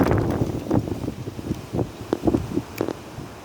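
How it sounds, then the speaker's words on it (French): Outdoor wind gusts buffet the microphone in a run of uneven low rumbling bursts, loud and close, with no voices. "Il fait beau, mais il y a du vent, donc c'est un peu chiant."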